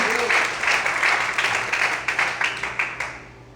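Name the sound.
congregation applauding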